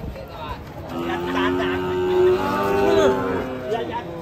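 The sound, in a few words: cattle mooing and raging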